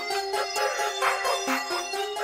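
Overdriven saturation plugin distortion on a client mix, pushed until it turns harsh: a gritty, buzzing, clipped tone with choppy rhythmic pulses and a honking, squawk-like edge, loud and steady throughout.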